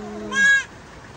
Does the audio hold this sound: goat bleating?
yes